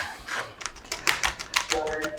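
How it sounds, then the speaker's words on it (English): A kitchen knife chops fresh garlic on a cutting board in quick, uneven taps, close and fairly loud, with a few soft scraping sounds between strokes. "I'm just chopping that up. Sort of your garlic there."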